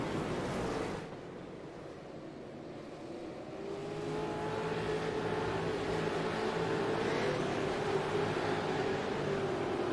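V8 race cars in iRacing accelerate down the back straight at Mosport, a steady engine drone with a slowly rising pitch that swells and holds at moderate volume.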